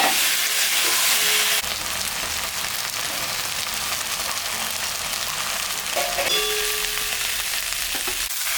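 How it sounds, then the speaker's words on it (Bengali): Potatoes go into a pan of spices frying in oil for a fish curry, a loud continuous sizzle that drops slightly after a clatter, with occasional scraping stirs and metallic taps. "মশলাটা ভাজা ভাজা হয়ে গেছে, আর একটু হবে, তাহলে এখন আমি আলুটা দিয়ে দিই।"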